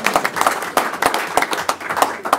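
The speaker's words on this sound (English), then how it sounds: "No, we can clap for that." A small audience at a school board meeting claps in a brief, uneven burst of separate hand claps, fairly close and loud, fading in and out over a couple of seconds.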